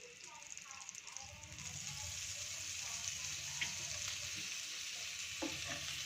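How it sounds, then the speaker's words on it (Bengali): Chopped garlic and butter fry in a pan with a steady, soft sizzle and crackle, plus a few small clinks and scrapes, heard close with no talk. "রসুনের সাথে বাটারটা যখন মেল্ট হবে তখন এর গন্ধটা খুবই সুন্দর বেরোবে, আর রসুনটাও বেশ সুন্দরভাবে ফ্রাই হবে"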